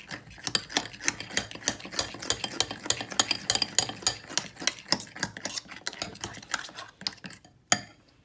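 A utensil knocks and scrapes quickly and rhythmically against a bowl while pancake batter is mixed, close and fairly loud, with one sharp clack near the end.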